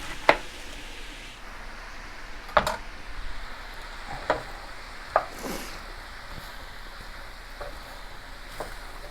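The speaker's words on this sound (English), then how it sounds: "You're also going to take this time to cut up your shallots." A knife chops shallots on a board: a handful of sharp, isolated taps land at irregular intervals over a faint steady background hiss, with no one talking.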